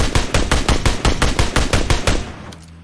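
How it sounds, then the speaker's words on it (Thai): Rapid gunfire in PUBG Mobile, fired through a 4x scope: about a dozen loud, evenly spaced automatic shots in a fast rhythm, ending in a short fading tail. "ยิงให้ดู"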